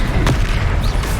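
A Confringo fire spell bursts in the Hogwarts Legacy game, a loud, dense boom with a sharp crack early on and sustained rumbling blast noise through the short moment.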